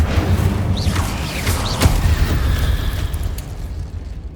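A fiery burst and whoosh from the Incendio fire spell being cast in the Hogwarts Legacy video game, a sustained loud roaring blast with crackling texture running through the whole stretch.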